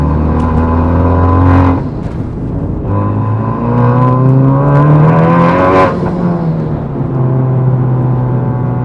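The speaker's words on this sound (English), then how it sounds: "So we let the car warm up" Honda Civic Type R engine warming up after ignition, a steady loud engine drone with shifting pitch as revs rise and fall, one brief dip in level near two seconds, no voices.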